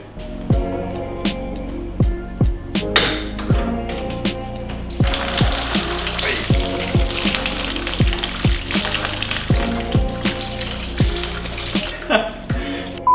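Coolant splashes and trickles from a pulled bottom radiator hose on a Corrado into a container below, a steady pour broken by sharp metallic clicks and knocks, close and fairly loud.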